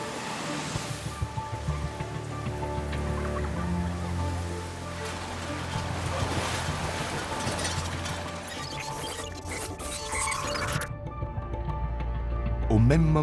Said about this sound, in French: Le déluge s'abat si violemment que les rues sont inondées en quelques minutes.